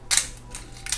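Film advance lever of a Leica M3 with no ratchet sound, wound in a single smooth stroke, giving soft mechanical whirring bursts at the start and again near the end, close and quiet.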